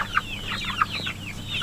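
Hens on a homestead clucking softly at a moderate distance, a few short, sharp clucks and murmuring calls spread over a couple of seconds against quiet background, with no talking.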